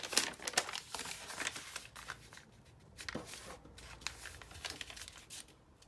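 Paper envelopes being folded in half by hand, a run of close, soft crinkling and creasing rustles with brief pauses, fairly quiet and without speech.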